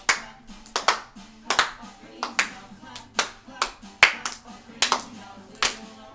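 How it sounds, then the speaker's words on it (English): Hands clapping along to a dance, steady sharp claps in a regular rhythm roughly twice a second, close and clear over faint background music. "Clap those hands."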